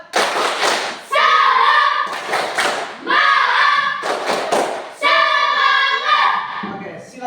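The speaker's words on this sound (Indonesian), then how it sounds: "tepuk semangat" A classroom of students doing a rhythmic clapping cheer, with bursts of sharp group claps alternating with loud chanted voices in a repeating pattern, close and energetic.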